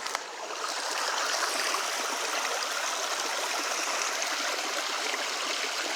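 A stream flowing steadily along a nature walk, a continuous broadband rush of water that stays close and even throughout, with no voices.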